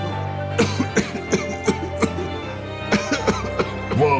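Smoker coughing in a string of sharp, repeated hacks and throat clearing, close and loud, about a dozen bursts in a few seconds.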